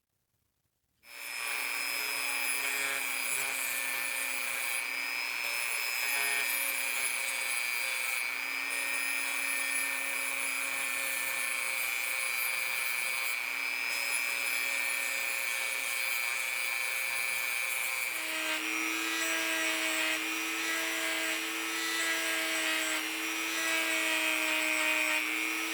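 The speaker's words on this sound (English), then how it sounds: "I want to work on this area and this area here with my Dremel and the sanding drums." A Dremel rotary tool spins with sanding drums on a Billings & Spencer Model A adjustable bicycle wrench, a steady high-pitched whine that shifts to a lower pitch partway through and runs continuously up close.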